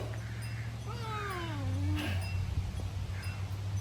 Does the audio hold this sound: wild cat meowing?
yes